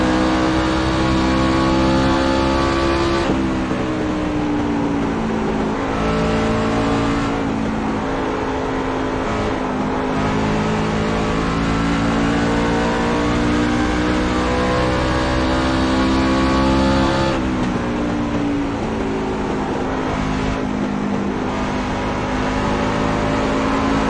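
Cabela Silverado race truck engine in the iRacing game, loud and steady, droning at high revs with a few dips and climbs as it shifts and pulls through corners, continuous and alone.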